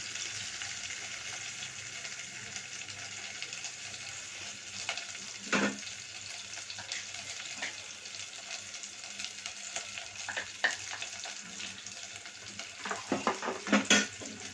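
A spoon stirs soya-chunk curry with turmeric in a frying pan, giving a steady close sizzle with scraping strokes and a few sharp clinks against the pan that grow busier near the end.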